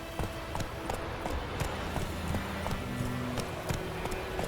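Horse hooves clip-clopping at a quick gallop in The Witcher 3: Wild Hunt, rapid rhythmic thuds over a low rumble of game ambience, moderately close and fairly quiet.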